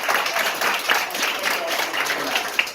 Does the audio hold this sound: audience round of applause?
yes